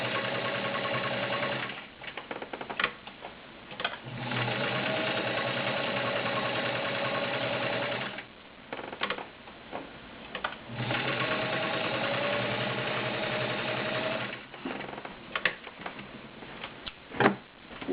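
A heavy-duty Kenmore Model 65 sewing machine with a size 16 needle stitches through six layers of real denim, a close, steady mechanical whir in long runs broken by brief pauses and clunks.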